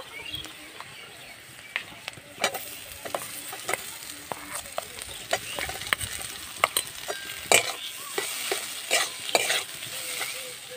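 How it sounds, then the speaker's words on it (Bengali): Mashed boiled potato is stir-fried in a pan, with a spatula scraping in irregular strokes over a soft, constant sizzle. The sound is fairly quiet and close, with no talking. "এবার আমি সব ভালো করে ভেজে নেব"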